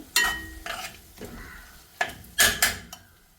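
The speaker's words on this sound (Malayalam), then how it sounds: "പച്ചമുളക് ഇട്ട് കൊടുക്കാം. നല്ല 3 പച്ചമുളക് ചെറുതാക്കി അരിഞ്ഞെടുത്തതാണ്." Three finely chopped green chillies dropped into a hot pan for chicken gravy, with a series of spoon knocks and scrapes against the pan, some sharp and close, over a light sizzle.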